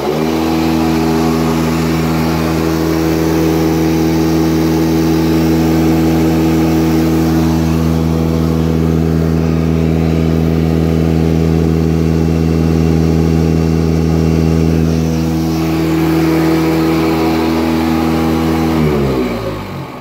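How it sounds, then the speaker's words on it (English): A Thunderbolt siren blower belt-driven by a 120V motor, a loud steady drone with strong sustained tones that hold for about nineteen seconds, then drop in pitch as it winds down at the end. "I got one belt looped around the blower, and it turns in the right direction"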